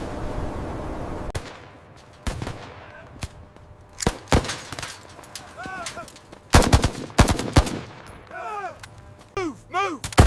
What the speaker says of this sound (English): Suppressing fire on the tower!